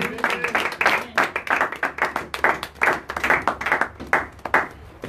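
A church congregation claps to acclaim the Lord: a steady rhythmic stream of hand claps from a crowd, moderately loud and continuing throughout with a faint voice briefly underneath.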